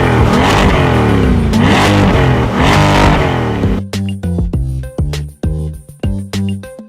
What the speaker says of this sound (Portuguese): vai mostrar para ela o ronco do motor